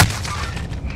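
Dense gunfire in a Call of Duty Warzone match, a continuous rumbling barrage of shots and low booms lasting about a second, loud and steady with no pause.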